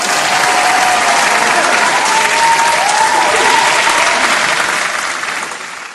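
Loud, dense applause from a football crowd at a Nedbank Cup match between University of Pretoria and Mamelodi Sundowns, steady for about five seconds before fading, with faint whistling tones threaded through.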